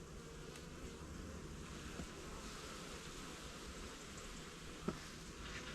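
Bees drone in a steady, continuous buzz around a double-brood nucleus hive, with one brief sharp knock near the end.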